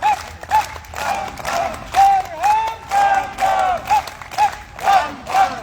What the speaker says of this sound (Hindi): ताली की गड़गड़ाहट होने जा रही है और हमेशा जोर से ताली बजेंगी